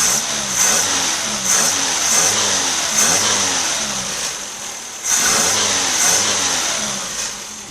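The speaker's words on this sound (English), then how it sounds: "I just barely turn it and it starts to raise the RPM." A Toyota TE31 engine with Weber carburetors revs repeatedly from idle, each blip of the throttle rising and falling sharply, close and loud with no talking.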